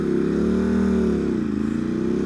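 A Ducati SuperSport S engine revs loud and close, its pitch climbing, dipping briefly, then pulling up again in a steady throaty drone, with overrun sounds.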